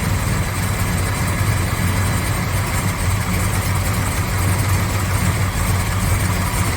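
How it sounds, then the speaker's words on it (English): A 1970 Plymouth GTX with a roller motor idles up close, a loud, steady rumble with an even low throb and no talk. "I thought it'd be quieter, but that's what a roller motor sounds like"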